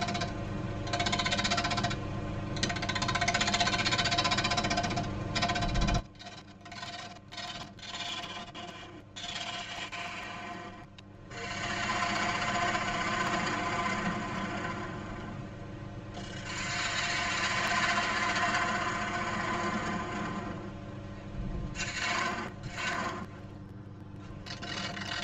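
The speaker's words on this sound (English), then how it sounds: "time to put it into the chuck and get on with hollowing out the centre" Wood lathe turning at around 800 to 900 rpm while a tool hollows the centre of a natural-edge walnut platter, with slight vibration: a loud, continuous rasping, scraping cut that drops out briefly and resumes several times.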